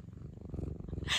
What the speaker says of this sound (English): They're purring.